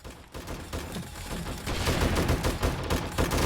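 Automatic turrets in 7 Days to Die firing on a zombie horde, a continuous rapid rattle of shots that grows louder about halfway through and keeps going without pause.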